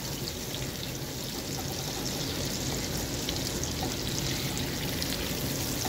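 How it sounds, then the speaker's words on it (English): Liquid poured into a hot pan with butter and garlic to deglaze it, giving a steady, dense sizzle and hiss that holds at even loudness throughout, close up and without speech. "Now I'm just going to deglaze the pan."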